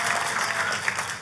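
Church congregation applauding in unison after a call to praise God during a sermon, a dense steady wash of hand claps filling the room, loud and close with no voices rising above it.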